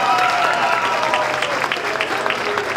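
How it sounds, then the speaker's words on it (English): A jazz coffeehouse crowd applauds the performers at the close of the night, loud, dense clapping that fills the room, with a sustained tone ringing under it. "One last time, round of applause for all of our performers."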